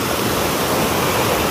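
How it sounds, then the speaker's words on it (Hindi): A forest waterfall near a village pours steadily, giving a loud, close, unbroken rush of falling water with no voices. "दोस्तों बीच जंगल में यहाँ से आ रहा है पानी"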